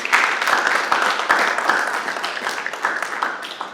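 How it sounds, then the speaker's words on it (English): Audience applauding panelists at a university agriculture alumni panel, a continuous, fairly loud patter of many hands with individual claps standing out, with some voices mixed in. "Can we give a round of applause for our panelists"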